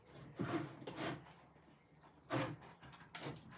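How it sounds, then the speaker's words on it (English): A drawer in a wooden boho chest slides out in a few short scraping rubs of wood on wood, quiet and close, with brief pauses between pushes. "Let me just poke the drawer out a touch."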